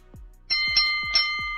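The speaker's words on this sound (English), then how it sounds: "he is in control of what we call the bold enough bell" Studio bell sounded as a game-show style signal on a live sports radio program, ringing in three or four clear, bright strikes with ringing tones, no voices over it.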